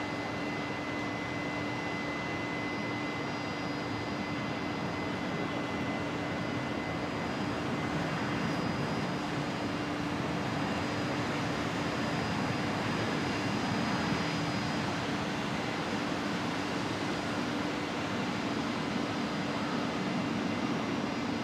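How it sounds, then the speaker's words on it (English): A Qantas airliner landing at Brisbane Airport at sunset, its engines in idle reverse thrust, gives a steady, subdued broadband roar with a faint constant whine, continuous and even throughout, with no voices. "And seeming like idle reverse thrust there, very quiet."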